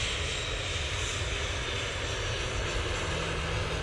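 A Ryanair jet airplane at Manchester Airport produces a loud, continuous engine roar, dense and steady from start to finish with no break.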